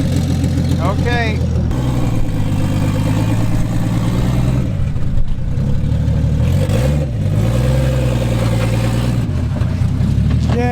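An engine in a car with no turbo fired up under the open hood and runs at a steady mid-pitched idle with a couple of rising revs, loud and close, while a person speaks briefly over it.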